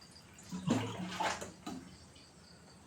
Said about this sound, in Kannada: ನೋಡಿ, ಒಂದು ಗ್ಲಾಸು ತುಂಬ ನೀರು ಫಸ್ಟಿಗೆ